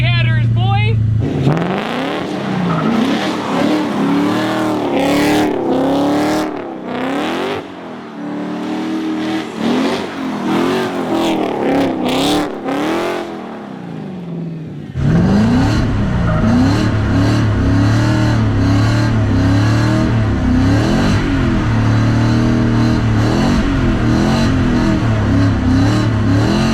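Ford Mustang GT Coyote V8 swapped into a Nissan 240SX, fitted with F-150 headers, revving hard and loud in repeated rising and falling pulls, then settling into a steady throaty drone, with people talking and exclaiming over it.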